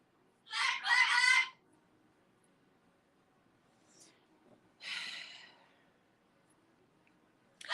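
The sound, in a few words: birds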